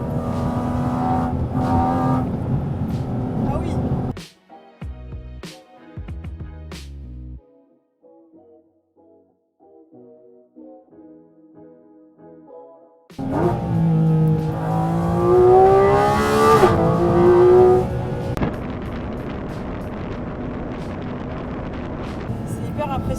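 A Porsche GT4 RS with a titanium exhaust revs loudly at close range, its rising and falling engine note dominating the second half after a quieter musical stretch, with people talking and exclaiming over it.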